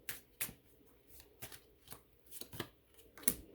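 Tarot cards are shuffled and drawn by hand in a quiet room: a few soft, papery riffles and flicks, close but faint, with no talking.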